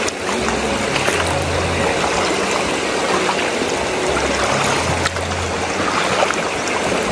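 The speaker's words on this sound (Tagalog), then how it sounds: "itong sapa na to ay ano lang, maliit lang ito. Biglang lumaki. Ayan o, lumawak." A small stream swollen into a wider creek flows steadily, a dense continuous rush of water close by with no voices.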